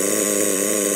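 A Kyosho Neo ST 3.0 nitro RC car engine settles to an idle outdoors, a loud, close, steady buzzing drone held for a moment.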